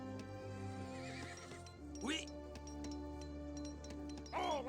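Cavalry horses whinnying twice in the video game Age of Empires 3 over a steady tonal hum, with light ticking hoof clatter in between.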